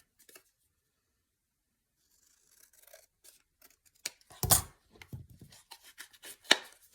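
Scissors trim paper in a quiet papercraft setting, giving a few soft, crisp snips and rustles. The snips are sparse at first, then come as a brief, denser cluster of cuts.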